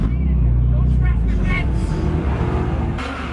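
A 1999 Subaru Legacy pulls away to start a drift, its engine giving a loud, close, rising rumble over a few seconds before easing off as the car moves away.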